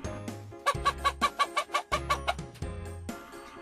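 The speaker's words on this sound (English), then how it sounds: "H for hen." A hen clucks in a rapid series of short, close calls, pausing briefly, then clucking again in another burst.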